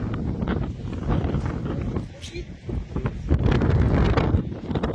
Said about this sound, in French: Il y a du vent ici, c'est dingue.